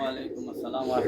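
Pigeons coo steadily in a low, continuous murmur under a man's nearby speech at a Bangladeshi pigeon seller's loft.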